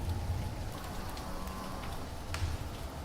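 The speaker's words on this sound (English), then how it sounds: "the sound of the rain's drowning it out" Rain falls in a soft, continuous patter, faint and fairly close, with a few slightly louder drops and low rumbles rising near the start and end, no voices heard.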